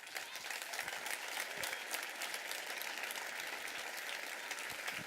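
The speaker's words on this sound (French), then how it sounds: "je vous propose de leur faire une vraie ovation" A crowd at a municipal New Year's greetings ceremony in Montreuil gives public service agents a sustained ovation, dense steady clapping that fills the hall at a constant level throughout.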